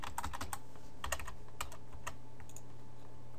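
Fingers tap out a database password on a computer keyboard, a quick irregular run of crisp key clicks in close bursts with short pauses, alone in a quiet room.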